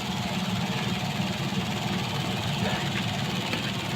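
A repaired clothes dryer runs with its motor spinning fast, giving a steady, continuous hum and low rumble that holds level throughout, with faint background noise around it.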